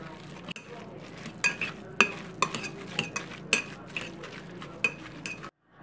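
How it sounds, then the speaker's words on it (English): Sweet potato tater tot mixture being mashed in a bowl, a run of repeated clinking, scraping strokes at close range with a steady background hum, no talking. "So we're gonna mash this all together."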